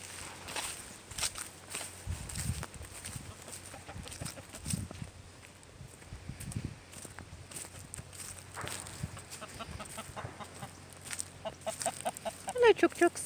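Broody hen clucking in low, intermittent bursts at a homestead chicken coop, with footsteps and a person talking nearby throughout.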